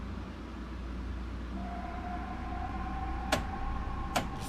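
Metro North M8 electric commuter train in Train Sim World 6 humming at a steady low rumble, with a rising whine of electric motors as it begins to move and two sharp clicks near the end.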